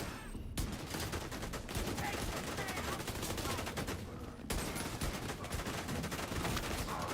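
Sustained automatic gunfire in the video game The Division 2, dense rapid shots with a brief pause midway, loud and continuous over a noisy combat backdrop.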